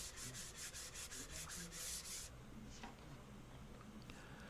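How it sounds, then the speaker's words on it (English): Hand sanding a piece of walnut for a carved mid-century counter stool: about nine rhythmic back-and-forth rasping strokes close up, then the rubbing stops and only quiet room noise and a faint tap remain. "And just a quick hand sand at the end there."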